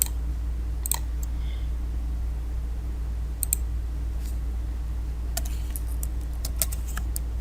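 Computer mouse clicks come in scattered sharp, light taps during spreadsheet work, with a steady low hum underneath and no voices.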